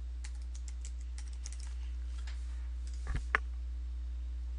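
Fingers type a username and password on a computer keyboard, producing quiet irregular key clicks over a steady low electrical hum, with a couple of louder taps near the end.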